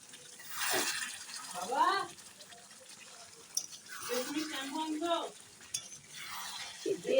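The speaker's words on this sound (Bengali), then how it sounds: "আলু দিয়ে ঢাকা দিয়ে দিয়েছিলাম এখন নাড়া দিই" A spoon stirs chicken curry with potatoes in a pan, making soft scraping and wet sloshing sounds in intermittent strokes. A faint voice murmurs in the background.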